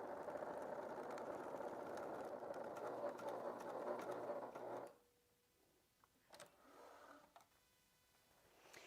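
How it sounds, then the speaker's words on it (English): A sewing machine stitching a leather-style wallet runs in a steady, fast mechanical whir for about five seconds, then stops, leaving faint handling noises and quiet shuffling. "when I stitch this, I am going to stitch it from this side so I can see my line"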